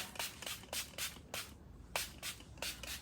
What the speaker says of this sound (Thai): เราจะใช้สเปรย์เนกประสงค์ร่วมกับน้ำยาล้างเล็บนะคะ